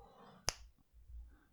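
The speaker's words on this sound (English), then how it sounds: "I'll snap my fingers" A single sharp finger snap, close and crisp, standing out against near silence in a quiet room.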